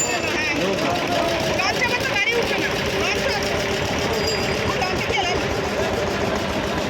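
A boat engine drones steadily and loudly without a break from start to finish, with muffled chatter mixed into the noise.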